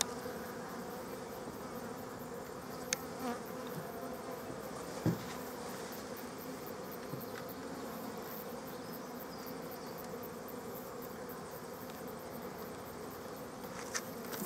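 Honey bees buzzing steadily while being moved into a long bench hive, a dense close hum with occasional sharper bee passes and faint knocks, no talk.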